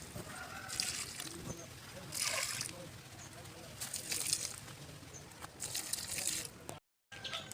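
Water pours onto garden plants in a village, arriving in several separate splashing bursts of a second or two each over quiet outdoor background noise.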